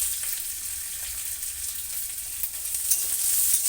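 Garlic and slit green chilies frying gently in a pan, a dense, even hiss of bubbling oil that holds steady and swells slightly toward the end, close with no voices.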